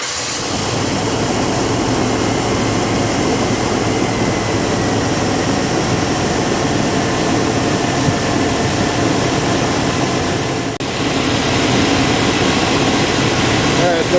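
A Chevy GMC 5.7L V8 idling after a fuel pump replacement, a loud, steady engine rumble close by throughout.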